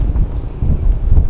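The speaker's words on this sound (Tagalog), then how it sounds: "Ganyan po kasarap yung hangin dito." Strong gusts of wind on a mountain top buffet the microphone in low rumbling surges, loud and close, with no talking.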